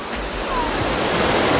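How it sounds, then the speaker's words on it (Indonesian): The Coban Rondo waterfall in Pujon, Malang, pouring from high cliffs, a loud steady broadband roar of falling water close by, with faint wind across the microphone. "Dan ini air terjun terkeren sih kalau menurut gua."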